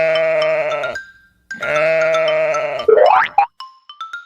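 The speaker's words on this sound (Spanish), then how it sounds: "¿Cómo hace la oveja?" A sheep bleats in two long, wavering calls, loud and close, followed by a quick rising boing effect and a few light chime-like tones.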